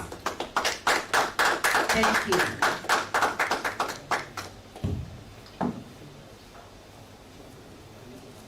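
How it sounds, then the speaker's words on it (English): Audience at a micro-credit association annual general meeting in Ghana claps steadily for several seconds after a chairperson is welcomed, the applause fading out before someone briefly says thanks into a microphone. "Those of you here, you can give a round of applause."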